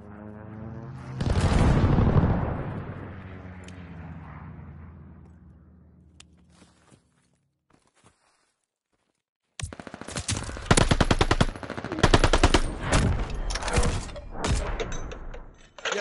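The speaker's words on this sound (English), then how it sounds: "Allies forced an airstrike." An airstrike in a video game opens with a heavy, booming explosion that rumbles and slowly fades into near silence, then loud, rapid machine-gun fire and blasts erupt in dense, jagged bursts.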